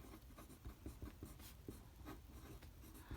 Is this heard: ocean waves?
no